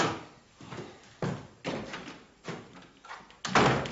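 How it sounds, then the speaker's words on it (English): A door is pushed shut indoors, giving a series of knocks and thuds at irregular intervals, ending in a louder bang, with no talk over it. "Right, door shut."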